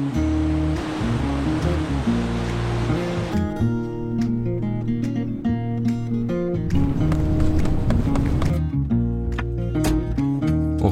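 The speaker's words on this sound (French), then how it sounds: "le bruit des vagues qui s'écrasent contre la roche" Ocean waves crash against rock below cliffs on the Moroccan coast, a loud, dense roar that is strongest for the first few seconds, with music playing over it.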